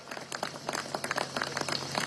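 Scattered claps from an audience at an outdoor ceremony at the National Pantheon honoring a theatre group, sparse, uneven and fairly faint.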